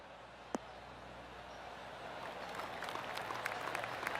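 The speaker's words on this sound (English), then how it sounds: "Oh, golf clap." Light applause from a golf gallery at the Travelers Championship, a soft scattered patter of clapping that builds slightly and stays fairly distant, with a single sharp click near the start.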